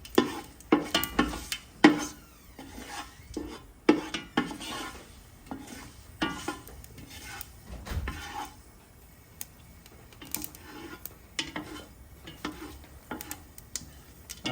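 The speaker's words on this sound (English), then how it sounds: "Let this cook up a bit." Whole cumin seeds (jeera) cooking in a pot over a low sizzle, with frequent metallic scraping and clinking of a spoon stirring against the pot, close up and without talk.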